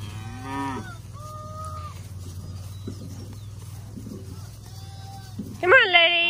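Cattle moo in a farm pasture: a nearby low moo opens, a few more calls follow at different distances over a steady low hum, and a louder, drawn-out bellow rises near the end while a person speaks in between.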